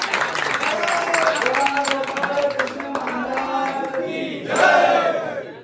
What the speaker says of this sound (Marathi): या सर्व तरुण मित्रांसाठी एकदा जोरदार टाळ्या व्हायला